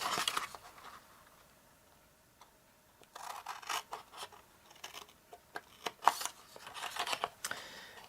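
Scissors snip through cardstock while cutting out treat-bag squares, a quiet pause giving way to a busy run of short, crisp cuts and rustles up close.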